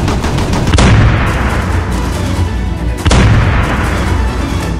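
Anti-air guns firing in the space combat game Starfighters: Raven Station, two heavy booming blasts about two seconds apart over a constant roaring battle din.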